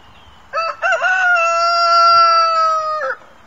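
A child imitates a rooster crowing with one loud, close, drawn-out cock-a-doodle-doo that rises briefly and then holds a long, steady tone for about two and a half seconds.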